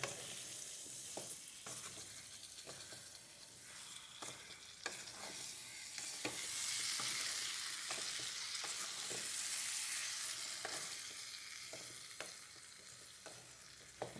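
Gooseberry pickle with chili, ginger, garlic and asafoetida is stirred in a frying pan, with quiet rhythmic spoon scrapes and taps repeating over a soft continuous sizzle.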